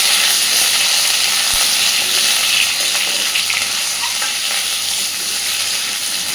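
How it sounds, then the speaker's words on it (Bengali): Potatoes frying in a hot pan for a kofta curry, a loud, dense, steady sizzle with a hissing, bubbling wash that barely lets up, close by and with no voices. "খুব ভালোভাবে আলুগুলোকে একটু ভেজে নেব।"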